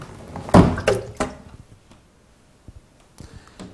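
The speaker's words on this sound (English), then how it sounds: "Open the door." The door of a Hoover Aquavision tumble dryer is pulled open, a close plastic thunk and click followed by a couple of fainter knocks, alone with no speech.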